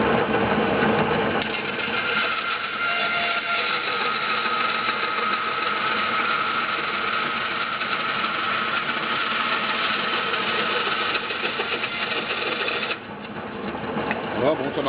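A band saw runs while cutting a fir board, its motor holding a steady, close buzzing drone with a faint rhythmic rattle, then easing off briefly near the end.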